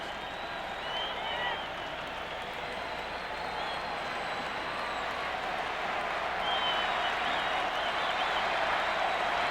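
Minnesota baseball crowd at Game 7 of the 1991 World Series against Atlanta, a distant, sustained roar and cheering swelling slightly over time, with faint commentary blended beneath the noise.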